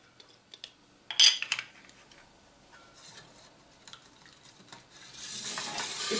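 Ingredients with garlic stirred in a pan for Asian-style chicken, soft scraping and light clicks of a utensil, one sharper clatter early on and a faint steady sizzle rising toward the end.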